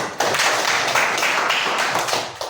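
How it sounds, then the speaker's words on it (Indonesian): Classroom applause breaking out for a student during a lesson on number patterns, a dense steady patter of many hands clapping at once, loud and close, holding for a couple of seconds before tapering off. "Tepuk tangan buat dia"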